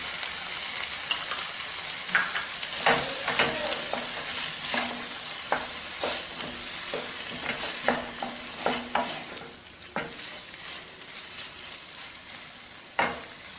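Tomato ketchup and capsicum fry in a pan for tomato pulao, a steady soft sizzle broken by repeated scraping stirs and a few sharp spoon knocks, close and without talk.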